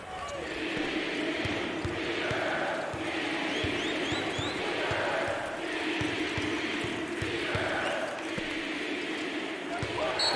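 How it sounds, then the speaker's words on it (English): A college basketball arena crowd at a Mountain West Conference championship game between Boise State and Colorado State makes a sustained, loud roar with pulsing swells of cheering and a few sharp court sounds underneath. "That's a great response by this crowd."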